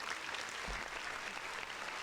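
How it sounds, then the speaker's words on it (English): A round of applause from a small group, steady clapping for about two seconds with no talk over it. "Round of applause again, please."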